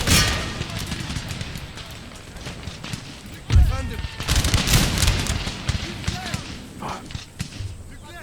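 Musket volley fire in the game Empire Total War, a battle of massed line infantry, with sharp crackling volleys and thumps rolling out across the field while a commander's voice shouts over the din.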